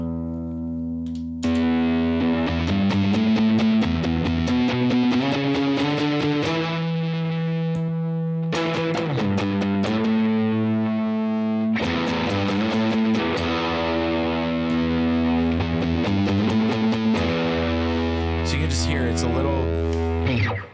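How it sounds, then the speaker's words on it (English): A thick, distorted fuzz guitar tone with heavy low end plays sustained riffs continuously, loud and saturated, with a brief dip midway. "bass heavy sound from your fuzz"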